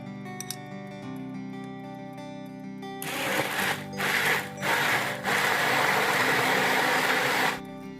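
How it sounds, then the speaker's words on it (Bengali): A blender whirs through persimmon (kaki), orange juice, lemon juice and boiled carrot, kicking in loudly after a quiet stretch, pulsing briefly, then running steadily before cutting off. "কাটা হয়ে গেলে অরেঞ্জ আর লেমন জুসের মধ্যে একবারে কাকি আর বয়েলড গাজর দিয়ে ব্লেন্ড করতে হবে"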